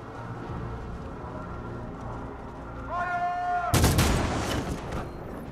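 Gunfire in the video game Detroit: Become Human bursts in loudly and suddenly partway through, a dense crackling volley following a rising tonal sting, over a busy game soundscape with voices.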